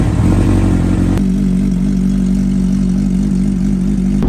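A Kawasaki Ninja H2 motorcycle starts, its engine catching after a second and settling into a steady, close, loud idle with a low throbbing hum.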